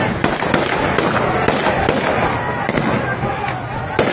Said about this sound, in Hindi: इस वीडियो में आप साफ तौर पे देख सकते हैं कि किस हिसाब से स्टूडेंट पे गोली चलाई गई